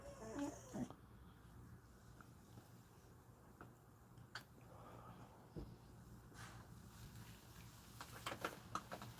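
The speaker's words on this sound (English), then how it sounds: "I don't know what he's barking at." A household dog barks faintly at night, probably toward a neighbour's dog across the street, with a few scattered, distant-sounding barks over a low, steady room hum.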